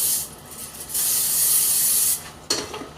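Cooking spray hisses from a can into a non-stick skillet in a home kitchen. One short burst is followed by a longer steady spray of about a second, then a brief clatter as the can is set down.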